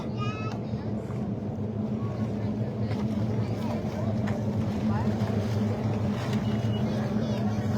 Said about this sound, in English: A lot of boats head across.